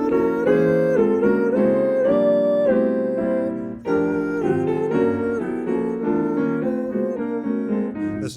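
Melody in which each note is harmonized by a different chord, played as continuous keyboard-like chords that shift on every note, loud and unbroken with no talking.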